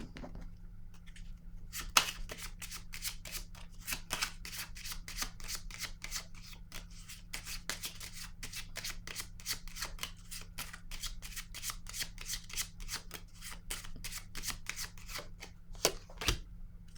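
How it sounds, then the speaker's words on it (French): Oracle cards shuffled and drawn by hand, a long quick series of sharp snapping riffles close up over a low steady background hum, without speech. "Je vais piger une autre carte ici."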